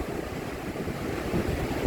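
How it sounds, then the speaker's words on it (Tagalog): Steady roar of strong ocean surf at San Fabian beach in Pangasinan, a dense continuous wash of crashing waves with wind buffeting the microphone, no voices. "Lakas ng alon."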